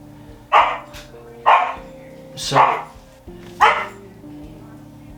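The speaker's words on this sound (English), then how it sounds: "Stop barking!" A dog barks four times in a slow, evenly spaced series, loud and close, with a steady hum underneath and a brief spoken word from a person.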